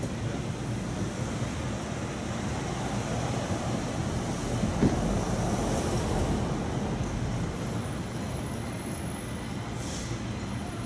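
Steady wind blowing by the sea in San Francisco, a constant broadband rush with no breaks, fairly loud and close throughout, with faint distant rumble beneath.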